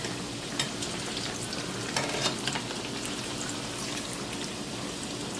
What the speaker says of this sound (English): We are working with hot grease. I'm using canola.